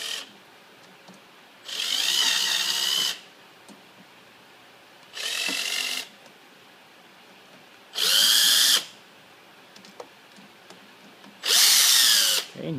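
Power drill driving screws while installing an adapter on a GM vehicle, four separate bursts of whirring about a second or so each, separated by quiet pauses, close and loud with no talking.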